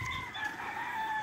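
A single rooster crows on a farm in a drawn-out, wavering call, moderately distant, with faint background noise and no talking.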